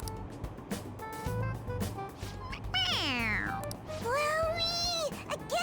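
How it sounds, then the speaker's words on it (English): A toy cat meowing when its head is pressed in Persona 5 Royal, several loud, clear, drawn-out meows sliding in pitch, the last two especially prominent, with game voices faintly underneath. "It's, a toy! It meows when you press on its head."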